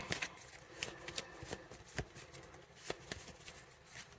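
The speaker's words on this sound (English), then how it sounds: "Let me come back and Shuffled my cards again." Tarot cards being shuffled by hand, a run of crisp riffling flutters and soft slaps repeating irregularly at close range, fairly quiet with no talking.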